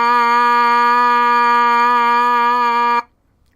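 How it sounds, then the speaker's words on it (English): A plain 5C trumpet mouthpiece, played without the trumpet, buzzes one steady, bright, reedy note for about three seconds, close and loud, then stops abruptly into silence. "If I play a little melody on this mouthpiece"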